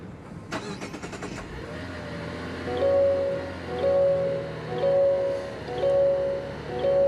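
A 2024 Mazda CX-90 with an inline-six engine cranks briefly with a rapid starter chatter, catches, and settles into a steady idle, its level rising and falling in slow, even swells.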